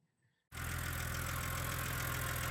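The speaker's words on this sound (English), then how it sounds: "It's got a slight little bit of lifter tick." An E86 BMW Z4's engine starts idling after a brief quiet moment, then holds a loud, steady idle with a faint ticking from the valve lifters buried in the drone.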